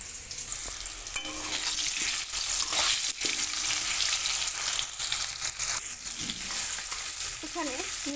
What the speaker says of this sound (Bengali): আলু ভেজে নিচ্ছি এখানে মোটা মোটা করে আলু কেটে নিয়েছি